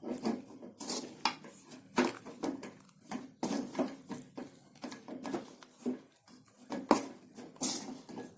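A spatula stirring thick cooking flour dough in a pan, giving repeated close scraping and knocking strokes in an irregular rhythm.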